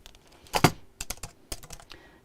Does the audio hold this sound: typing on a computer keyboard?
yes